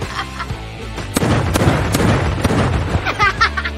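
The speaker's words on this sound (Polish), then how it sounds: "przebił moje balony" Rubber party balloons at a child's birthday are popped in a rapid series, sharp loud bangs stacking over one another, with scattered shouting voices and a busy, dense background throughout.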